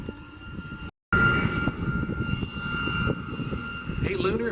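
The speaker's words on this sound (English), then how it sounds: "we do have those A10s coming back from the right" A four-ship flight of A-10 jet aircraft roars past at an airshow, a loud, broad engine rumble with a brief dropout and a rising whine near the end.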